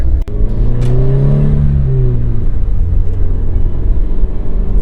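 A Subaru BRZ, Toyota GT86 or Scion FR-S with an unequal-length exhaust header burbles and revs nearby, a loud rumbling engine note rising and settling with a rough, uneven throb.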